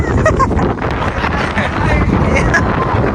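Strong gusts of sea wind roar and buffet the microphone throughout on a beach at Kelwa, with faint indistinct voices and bird calls mixed in underneath.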